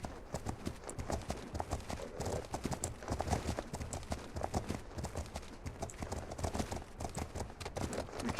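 Steady clip-clop of horse hooves at a walking pace in the video game Legend of Khiimori, rhythmic and continuous over a dense ambient bed, with no talk.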